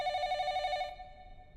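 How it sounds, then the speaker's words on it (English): A telephone rings in an anime scene with a loud, warbling electronic trill that cuts off partway through. A faint ringing tail lingers under quiet background noise. "The phone."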